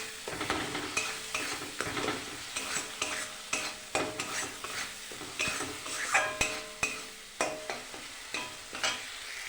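Chopped tomato and spices cook down into a masala for egg curry, with a soft sizzle under rhythmic scraping strokes of a spatula against the pan, repeating roughly every second.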